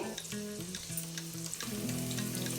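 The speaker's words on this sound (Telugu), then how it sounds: "ఇవి కొద్దిగా బ్రౌన్ కలర్ వచ్చే వరకు వేయించుకునే" Vegetables for sweet corn pulao frying until browned, a steady close sizzle running throughout with a low sustained hum beneath it and no voices.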